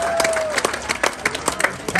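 Crowd applause at a football-themed comedy performance, a short burst of scattered clapping at moderate loudness with a faint tone underneath.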